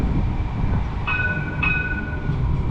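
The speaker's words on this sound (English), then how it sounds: "The Cincinnati streetcar has arrived." A Cincinnati streetcar pulls into a stop on a city street, a steady rail rumble with brief high squealing tones from the wheels or brakes, heard close and without speech.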